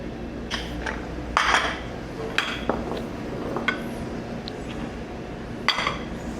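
Dishes and pots clatter and clink in a ship's galley kitchen as it is tidied after cooking beans, with sharp scattered knocks and chinks over a low background hum.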